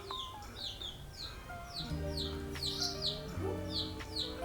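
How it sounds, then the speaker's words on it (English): Baby chicks chirping in a backyard brooder, many high, rapid peeping calls overlapping close by over a steady hum and some low household noise, no talk heard. "You want to see a chickie?"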